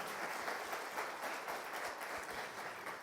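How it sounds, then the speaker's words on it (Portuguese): A congregation at a church talk claps together in a steady round of applause, a dense, even patter of many hands lasting about three seconds. "Salve de palmas!"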